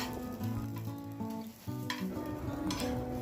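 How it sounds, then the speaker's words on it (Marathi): Veg matar cutlets shallow frying in oil on a hot tawa over a gas flame, with a steady close sizzle and a few soft stirring or turning sounds running throughout. "आधी तवा गरम करून तेल टाकलेलं आणि मग असं लालसर झालं की पलटी मारून कमी गॅसवर शिजवून घेते"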